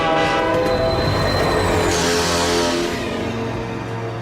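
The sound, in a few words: train horn of the Slugterranean Express in animated show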